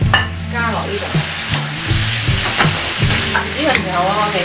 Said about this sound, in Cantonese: 就將頭先炸好嗰啲排骨啊加落呢度